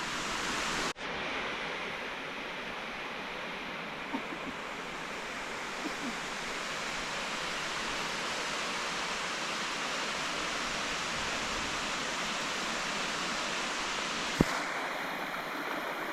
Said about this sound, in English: it's the waterfall we crossed.